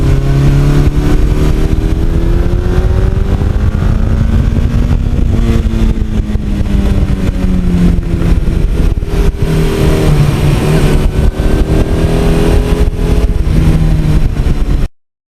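A 1982 Suzuki GS1100E motorcycle on the road, its engine droning loud and steady throughout with rising and falling pitch as the rider shifts through the gears and changes speed.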